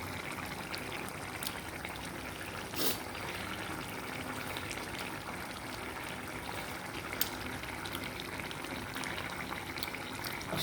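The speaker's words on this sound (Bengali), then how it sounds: "সিদ্ধ হওয়ার পরে ডিমগুলো আবার ছেড়ে দিচ্ছি তরকারির মধ্যে" Boiled eggs in curry sauce simmering in a pan, with a steady low bubbling hiss and occasional faint clinks or pops.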